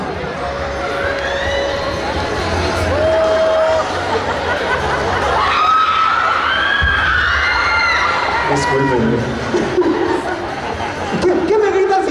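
An audience at an anime festival shouts and cheers loudly and without a break, with excited high voices, chatter and laughter filling the space close around.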